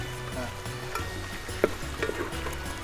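Ginger-garlic paste fries in a pan for a Kerala country chicken curry, a soft sizzle under stirring scrapes and a few light clicks of the spoon against the pan.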